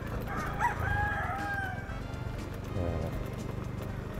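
A rooster crows once, loud and drawn out, over background noise and a steady low rumble in a Tondo, Manila housing area, with a second fainter call following shortly after.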